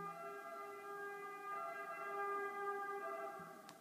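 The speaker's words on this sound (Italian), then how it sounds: "L'ambulanza, non so se la sentite, ma c'è un'ambulanza." A steady ambulance siren wails faintly in the distance, its sustained tones holding fairly constant throughout with no voices.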